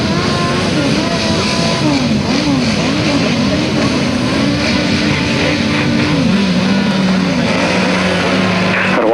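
Grasstrack racing motorcycles from 1991 roar off the start and down the first straight, a loud, continuous engine drone with rising and falling pitch sweeps as the bikes accelerate and shift.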